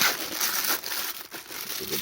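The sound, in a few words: unwrapping Spider-Man figure from paper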